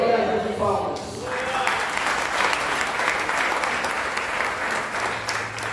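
A church congregation claps together during a sermon on intercession, sustained, dense applause filling the room for several seconds after the speaker's voice fades in the opening second.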